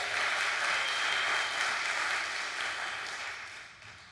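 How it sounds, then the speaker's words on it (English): Audience applause at a story salon event at Union Congregational Church in Montclair, a steady dense clapping that holds strong and then slowly thins toward the end, with no talking over it. "Give it applause."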